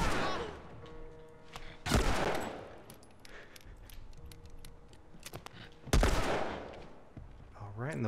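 Revolver shots in The Last of Us, with two heavy, sharp blasts several seconds apart standing out over quieter game ambience, scattered clicks and faint distant shots.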